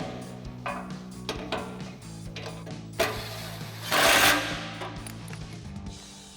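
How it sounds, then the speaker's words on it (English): Socket wrench tightening suspension bolts on a 2007-2021 Toyota Tundra during a Rough Country 3.5-inch lift install, a series of close ratcheting clicks and metallic taps with a louder burst of mechanical noise near the end. "And we can go ahead and tighten these up."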